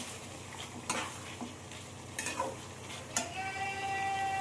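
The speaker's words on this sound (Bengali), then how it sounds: "পাঁচ মিনিট হয়ে গেছে মাংসটা আমার কষানো।" Chicken sautéing in a pan for dum biryani, with a steady sizzle and a few scraping stirs of a spatula against the pot. It is close and moderately loud, with no voices.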